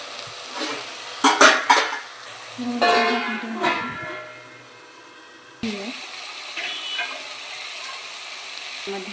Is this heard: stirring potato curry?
yes